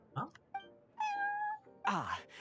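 A cat in the video game Genshin Impact lets out several distinct meows, one long drawn-out call among shorter ones, close and clear with no talking.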